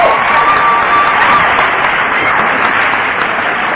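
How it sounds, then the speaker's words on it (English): Audience applause fills an AA meeting room, a steady dense wash of clapping with some crowd murmur running loud and unbroken throughout. "Trust me, you're clapping for yourselves"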